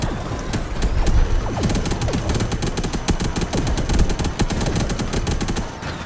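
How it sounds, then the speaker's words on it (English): Rapid minigun fire from a spider-legged crawler bot in Robocraft Infinity, a dense continuous stream of mechanical shots with whirring gear rattle, loud and close, running almost the whole time with no talk. "the main weapon for this spider frame or crawler bot is that minigun that I'm firing right there"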